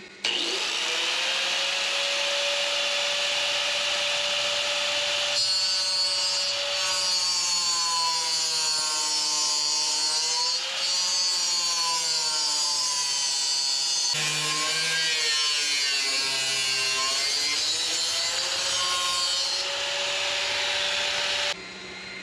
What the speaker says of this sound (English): Now I need a cutting tool with precise up and down and in and out motion.